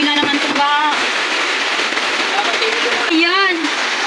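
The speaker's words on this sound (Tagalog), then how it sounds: "malakas na naman ang ulan" Heavy typhoon rain falls steadily as a dense hiss, with people talking over it.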